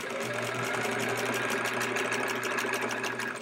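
A sewing machine runs steadily throughout, quilting a border of a sampler quilt held with grip aids, its fast needle hum continuous, close and loud with no talk.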